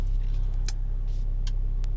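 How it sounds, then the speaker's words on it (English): Low, steady engine hum from a 2020 Mercedes-AMG GLC 43 Coupe, a continuous rumble with a few brief sharp clicks over it and no obvious rise in revs. "as you rev the car, you can see the engine torque goes up and down."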